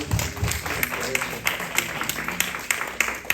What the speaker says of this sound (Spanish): Yo le daré un fuerte aplauso a Rey de Reyes